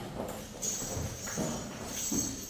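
A buffalo walks for sale at a Punjab dairy farm, its hooves giving soft, slow, irregular thuds on the ground, fairly faint under low background noise, with no talk.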